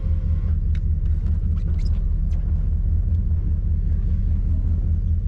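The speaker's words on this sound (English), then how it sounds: "It's been a long time since I've driven an American truck into my garden" A lifted Dodge Ram pickup truck engine drives slowly into a small garden, giving a steady, heavy low rumble that stays close and constant throughout, with faint clicks and rattles on top.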